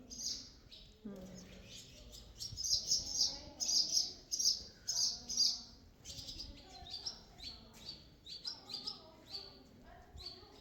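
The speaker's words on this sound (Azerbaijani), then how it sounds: "Burada indi çoxlu qaranquşlar yuva qurub." Swallows chirp at their nests in quick bursts of high, twittering calls, fairly close, with brief pauses between clusters and faint low sounds underneath.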